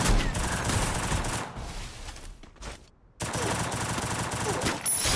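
Gunfire from a sniper shooting video game: dense, sustained bursts of shots that cut out briefly in the middle, then resume loud and continuous to the end.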